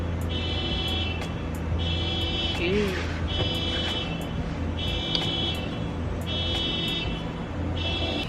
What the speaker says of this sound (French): viens arrêter l'alarme de ta voiture